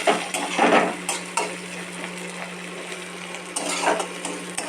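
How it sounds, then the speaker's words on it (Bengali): Oil sizzles steadily in a pan with panch phoron, chopped onion, bay leaf and dried red chilli while a utensil scrapes and stirs a few times, close by with no talking. "ওই তেলেই বসিয়ে দিয়েছি পাঁচ ফোড়ন পেঁয়াজ কুচি তেজপাতা শুকনো লঙ্কা দিয়ে"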